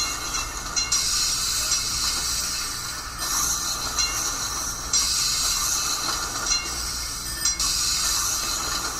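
Trams run in the city-building game Cities in Motion, a steady rolling rail rumble with recurring hissing, squealing bursts from the wheels, continuous and without speech.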